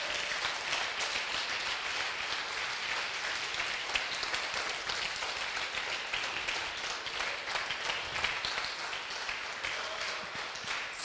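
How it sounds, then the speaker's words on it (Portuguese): A church congregation at a sermon claps loudly and steadily for the whole stretch, a thick, unbroken wash of hands with no voice standing out. "Se você vai aplaudir, aplauda forte."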